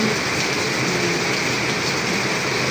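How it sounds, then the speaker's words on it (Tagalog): Heavy rain pours down in a dense, steady hiss with no breaks or voices, loud and close throughout. "Lakas-lakas ng ulan."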